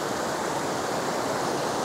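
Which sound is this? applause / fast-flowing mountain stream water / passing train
fast-flowing mountain stream water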